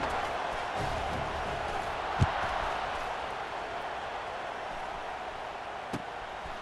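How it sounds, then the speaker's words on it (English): In EA Sports College Football 26, a stadium crowd keeps up a dense, steady roar after a score, broad and continuous, with a couple of faint thumps rising briefly out of the wash. "this crowd is buzzing after that last score"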